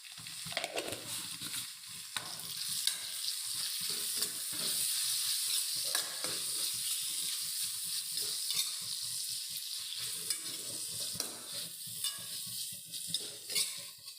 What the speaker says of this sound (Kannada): ಈ ಟೊಮೊಟೊ ಸ್ವಲ್ಪ ಸಾಫ್ಟ್ ಆಗೋವರೆಗೂ ನಾವು ಫ್ರೈ ಮಾಡ್ಕೊಳ್ಳೋಣ